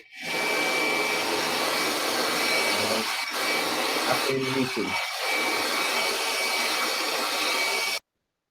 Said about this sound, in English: I think a dog just sat on a vacuum cleaner.